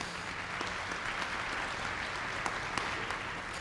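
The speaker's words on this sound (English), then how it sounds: "So give yourselves a round of applause for being there." Conference audience applauding at a keynote session, a steady dense wash of many hands clapping throughout with a few sharper claps standing out near the end.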